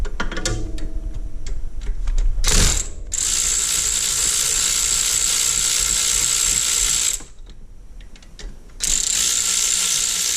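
Close ratcheting on the starter bolts of a 2000 Honda Rancher 350 ATV, with rapid metallic clicking of a ratchet wrench in long continuous runs, broken by brief pauses and a short clunk.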